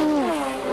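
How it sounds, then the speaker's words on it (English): Touring race cars at the 1984 Bathurst race sweep past at high speed on Conrod Straight, a brief loud engine roar whose pitch slides downward as they pass, with no talking. "Peter Brock, Dick Johnson go by."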